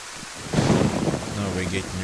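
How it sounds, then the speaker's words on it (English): Steady hiss of heavy rain in the Livonia map of the video game DayZ, swelling after a quiet start into a dense, continuous downpour, with a faint low hum underneath. "Now we're getting a proper rain."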